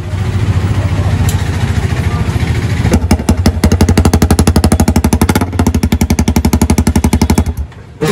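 Honda CBR 250R motorcycle fitted with a Bullet exhaust pipe idles up close, then revs into a loud, rapid, staccato engine burble that holds for several seconds before cutting out, with no voices.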